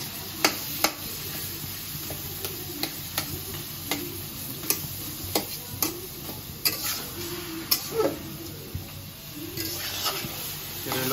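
Fried bitter gourd and boiled eggs are stirred in a pan over a low sizzle, with a spatula clicking and scraping against the metal in irregular, repeated strokes.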